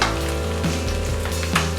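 Green chillies and pre-fried paneer pieces stir-frying with vegetables in a hot pan, a loud steady sizzle with scraping stirs and a couple of sharper clatters, no talking.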